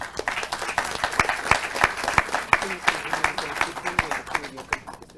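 An audience at a legislative forum on child and adolescent sexual violence gives a strong round of applause, a moderate crowd clapping in crisp, clearly separated claps that thin out toward the end while a voice is faintly heard.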